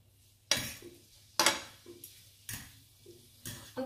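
Several sharp clinks of two forks against a pan while stirring noodles for pad thai, at a slow, uneven rhythm, close by and otherwise quiet.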